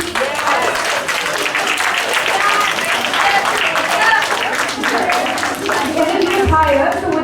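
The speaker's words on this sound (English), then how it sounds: "So the audience can have a big round of applause for all the teams." An audience at a school inter-house math quiz breaks into a long, loud round of applause, dense continuous clapping filling the room, with some voices mixed in beneath it.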